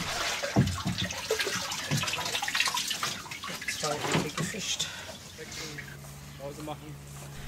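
Water runs and splashes into a basin at a steady, moderate level while rawhide parchment is softened for brain tanning, with voices speaking in the background.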